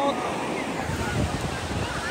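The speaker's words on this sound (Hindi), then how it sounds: "देखो भाई मैं समुद्रों के पास फाइनली आ गया" Ocean waves wash ashore at Puri beach, a continuous loud roar of surf mixed with gusty wind buffeting the microphone.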